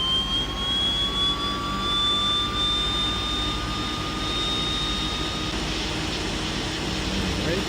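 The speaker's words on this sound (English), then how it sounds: "we should have good engine starts for both engines" The steady, loud drone of a Piper twin-engine aircraft's engine running in Microsoft Flight Simulator 2020 fills the whole stretch, with a faint whine that rises slowly in pitch before fading, and no talk over it.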